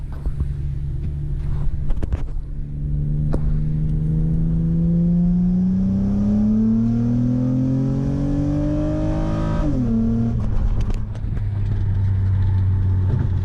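A four-door Nissan 350Z engine revs hard after a downshift into second, its tone climbing steadily, then dropping briefly at a shift before settling into a steady drone, close and loud with some wind noise.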